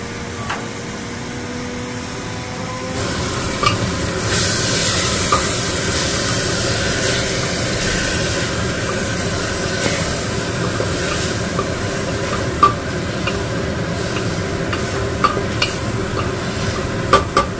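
Mutton curry masala cooking in a pan on a gas stove, a continuous close sizzle with scraping stirring strokes and occasional clinks of the utensil against the pan, steady throughout.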